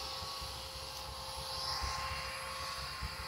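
Q450 V3 quadcopter drone flying on an autonomous flight, a faint steady whine and hum of its motors that is even throughout and heard from a distance.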